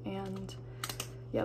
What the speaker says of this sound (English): that like clicking noise you hear, it's this book